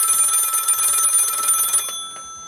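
A telephone rings loud and close with a sustained electronic bell tone that cuts off, followed by a couple of faint clicks.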